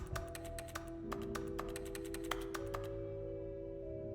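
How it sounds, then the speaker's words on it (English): Rapid clicky keyboard typing from The Stanley Parable fills a few seconds, a quick irregular patter of keystrokes over a faint steady background hum, with no one speaking. "If I click, it adds keyboard sounds."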